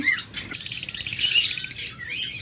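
Caged lovebird pairs give quick bursts of high, bright chirps and tweets, close by and fairly loud, in a short rapid series.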